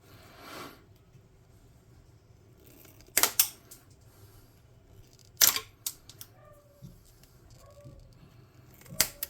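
Scissors snip a piece off while building a tabletop-game hot-air balloon craft: two sharp cuts stand out, followed by a few lighter clicks and rustles in a quiet room.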